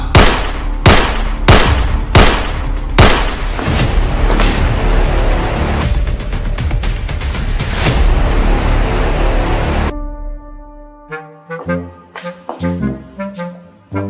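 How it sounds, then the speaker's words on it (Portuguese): Five loud gunshots fired in quick succession during a stage play, each a sharp broadband crack with ringing decay, followed by a burst of dense noisy clatter and then sparse tonal hits and musical stabs as the scene ends. "O homem dá 5 tiros a queima-roupa na mulher."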